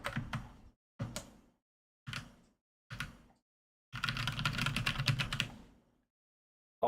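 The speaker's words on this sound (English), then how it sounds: "So hold down the command key." Keys on a computer keyboard pressed in four short separate bursts, then a longer run of quicker clatter, close and fairly quiet, with no talk.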